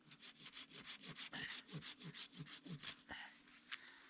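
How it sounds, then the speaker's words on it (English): Steady back-and-forth strokes of a Silky folding hand saw cutting through wood, about a dozen rhythmic rasping pulls, close and fairly quiet, ending in a few scrapes. "the silky saw is the bomb. Just for stuff like this."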